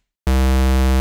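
A synthesizer square wave starts abruptly and holds one steady, buzzy, hollow tone at constant loudness.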